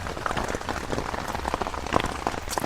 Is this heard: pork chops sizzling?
no